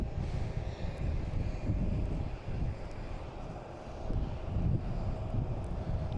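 A Delta jet airliner takes off at Boston Logan Airport, heard as a steady, fairly distant low engine roar that rises and falls slightly, mixed with some wind.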